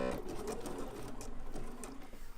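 A sewing machine stitching a scrap of fabric runs steadily and close by, a continuous mechanical whirring hum for the whole moment with no talking.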